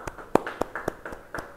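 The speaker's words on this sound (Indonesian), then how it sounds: "Yang percaya beri tepuk tangan bagi dia." Congregation at a church Bible study clapping hands, a sparse run of separate claps with a few sharper near ones, no talk over them.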